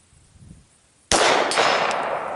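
A single sharp crack of a Glock 17 handgun shot at an outdoor range, aimed at a target 70 to 80 yards away, loud and sudden after near silence, with a trailing echo.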